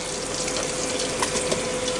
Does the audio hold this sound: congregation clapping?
no